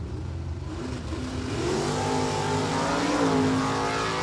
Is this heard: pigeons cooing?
no